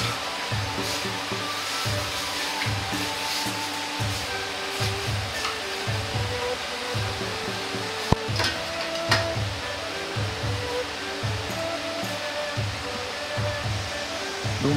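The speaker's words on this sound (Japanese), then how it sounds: "中華麺を沸騰したお湯に入れ、" Pot of water at a rolling boil with Chinese ramen noodles dropped in, a steady rushing, bubbling hiss held throughout over a faint rhythmic music bed.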